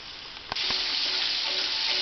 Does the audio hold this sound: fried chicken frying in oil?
yes